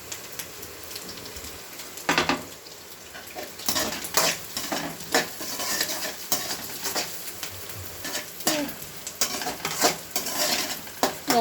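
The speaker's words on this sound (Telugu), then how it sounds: "ఆనియన్, పచ్చిమిర్చి కొంచెం ఫ్రై అయిన తర్వాత ఇప్పుడు కొంచెం కరివేపాకు వేసుకోవాలి అందులోనే." Onion and green chillies fry with curry leaves for egg rice, a steady sizzle cut by frequent loud ladle scrapes and clinks against the pan, stirring at a quick, uneven rhythm throughout.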